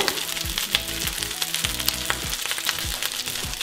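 Rice frying and sizzling steadily in a pan while being stirred, with a constant close crackle and repeated scraping strokes through it.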